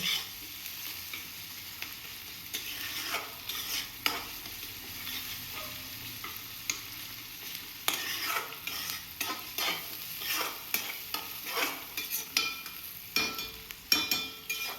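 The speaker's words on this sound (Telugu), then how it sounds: "ఇప్పుడు ఒక వన్ మినిట్ పచ్చివాసన పోయేంత వరకు మగ్గనిద్దాం ఎక్కువసేపు మగ్గనిస్తే అల్లం వెల్లుల్లి పేస్ట్ వేసాం కదండి అది అడుగు అంటుకుంటుంది" Ginger garlic paste fries in a pan while being stirred, a steady soft sizzle with repeated scraping and stirring strokes throughout, close and alone with no talking.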